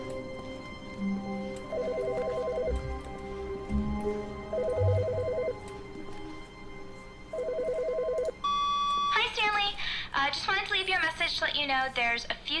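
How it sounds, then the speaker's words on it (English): A telephone rings three times in the video game The Stanley Parable, each a short electronic trill with pauses between, over a low background hum; a voice then begins speaking. "Wait, there's a phone ringing."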